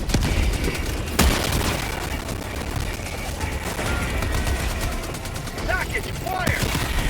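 In the video game Helldivers 2, a grenade is thrown, followed by a sharp explosive crack and continuous rattling gunfire amid battle noise, with brief radio-like voice chatter over it.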